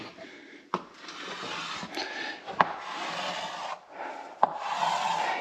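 Chalk drawn in strokes across a chalkboard to mark lines: several close, raspy scraping passes, each lasting about a second, broken by sharp taps where the chalk meets the board.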